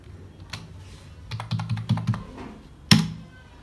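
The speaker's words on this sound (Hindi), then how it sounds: "पासवर्ड डालूंगा गाइस मैं अपना, कीबोर्ड भी चलाऊंगा गाइस देख सकते हैं आप" Keys on a computer keyboard are tapped at close range in irregular short bursts, with one sharper, louder key strike near the end and no talking.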